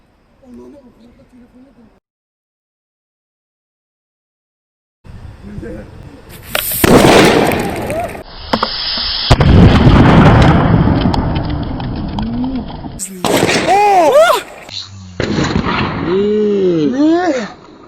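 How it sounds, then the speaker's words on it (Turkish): A sharp explosive bang from a homemade bomb followed by crackling bursts and pops, loud and close, with excited voices shouting through and between the blasts. "Daha büyük bir patlama bekliyorduk ama olmadı."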